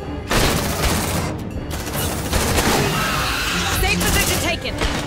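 Sustained automatic gunfire rattles in the Aliens: Dark Descent video game, loud and continuous throughout, with soldiers shouting over the barrage.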